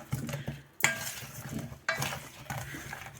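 Potatoes tossed with oil in a dish, close scraping and clinking of a utensil against the dish in a few strokes, with soft wet mixing sounds between, fairly quiet.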